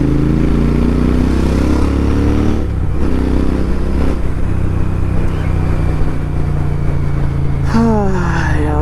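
A new Royal Enfield Interceptor 650 on a long highway ride to Udupi, its loud, steady engine drone blended with heavy wind rush, brief shifts in tone and a rising whine near the end.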